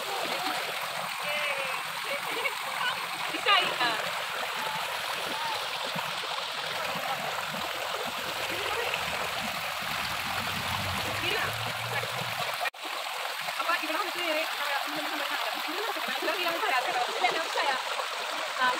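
Clear stream water at Arikkal waterfall rushes and splashes steadily around someone washing their feet, a close, continuous watery roar with brief splatters while people talk over it.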